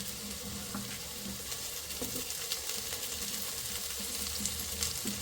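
Carrots and potatoes frying with onion in a pan for a chicken stew, a steady broadband sizzle with occasional soft pops and scrapes, close and continuous with no talking.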